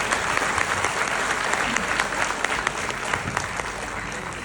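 Loud, dense applause from a crowd at a Forever Living Products business meeting, cheering for Shubham; many hands clap steadily and evenly throughout, with no break.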